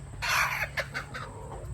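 Several chickens, including young roosters, cluck in a short run of close, clipped calls while pecking at scratch feed on a rainy day, with a steady low hum underneath.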